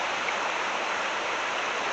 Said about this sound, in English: along this ridge right here, is a kind of a little waterfall